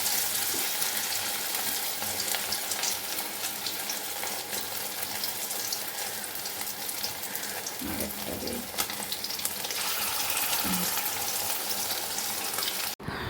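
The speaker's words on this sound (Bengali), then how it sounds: "তো এই যে হয়ে গেছে বড়া ভাজা" Palm-fruit fritters frying in hot oil, a steady broadband sizzle that runs unbroken and fairly close throughout, with a few faint clinks partway through.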